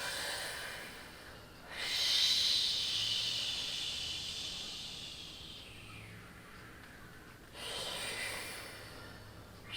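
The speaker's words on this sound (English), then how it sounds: "everyone breathe with me" A group breathes together in slow, audible waves, with a long breath swelling at about two seconds and fading, then another rising near the end, all soft and airy.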